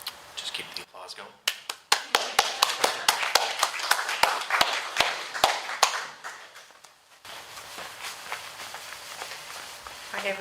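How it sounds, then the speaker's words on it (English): Sparse audience applause at a Seattle town hall on healthcare, heard as scattered, uneven claps rather than a dense ovation, fading after a few seconds into room noise. "Just keep the applause going."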